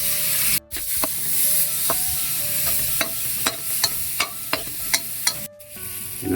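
Garlic and onion frying in a pan with fish sauce give a steady, bright sizzle close by, broken by repeated sharp scraping stir strokes against the pan.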